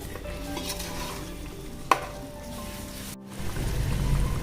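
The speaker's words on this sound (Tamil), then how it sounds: "இதையும் சேர்த்து நல்லா வதக்கிக்கலாம்." Chili powder and salt sautéing in a pan for Dindigul biryani, a steady close sizzle with stirring, a sharp utensil knock near the middle and a brief drop before the frying swells again.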